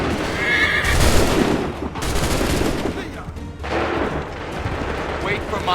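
Musket volley fire from a line of soldiers in Assassin's Creed 3, with loud booming bursts separated by shouted commands and a horse whinnying amid the battle noise.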